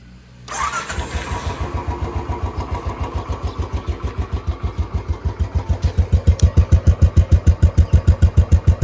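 A Royal Enfield Bullet motorcycle engine cranks on its electric starter and fires up, then settles into a loud, steady, thumping idle with a rhythmic low pulse, close by.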